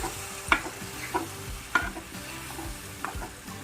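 Boiled mutton stirred into frying masala in a pan for mutton pickle: close, bright sizzling broken by four or five distinct scraping strokes of a spoon against the pan, with no voices.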